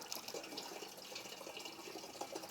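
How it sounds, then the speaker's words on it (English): Liquid bio-fertilizer is poured slowly, giving a faint, steady trickling and splashing of liquid that runs continuously without a break. "We pour it slowly and nicely."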